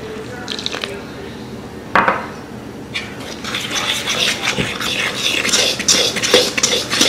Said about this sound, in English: To this, I'll add in some water.